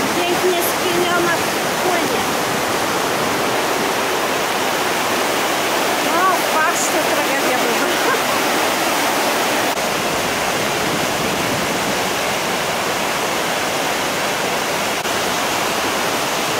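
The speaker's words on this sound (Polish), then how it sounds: "No wciąż idziemy w kierunku lodowca, ale po drodze strumień i wodospady." A stream and waterfalls rush steadily on the path toward a glacier in Norway, a loud, continuous broadband roar of falling water that fills the whole stretch without pause.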